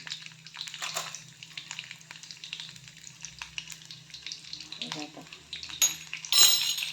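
Garlic frying in hot oil with mustard seeds, a soft crackling sizzle with scattered pops and faint utensil clinks, heard close at moderate volume.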